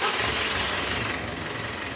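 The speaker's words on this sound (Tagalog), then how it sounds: "Start ko na itong makina." A Mitsubishi Strada pickup engine with weak pulling power runs with a dense, steady roar just after starting, close and loud, settling slightly lower after a second.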